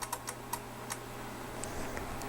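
Faint, sharp clicks of cogs moved by hand on a GAF Rols model 102 dictation machine, several quick irregular ticks close by over a low background hum.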